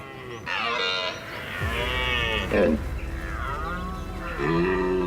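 Red deer stag bellowing a battle cry during the rut on Scottish islands. Several deep, drawn-out roars come one after another, loud and close, each with a rough, bellowing tone.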